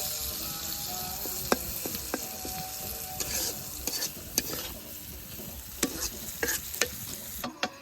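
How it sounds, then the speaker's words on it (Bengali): Small shrimp fry in a pan with a steady close sizzle. Frequent sharp clicks and scrapes of a utensil stirring against the pan punctuate it throughout. "চিংড়ি মাছটাও খুব ভালোভাবে ভেজে নিয়েছি"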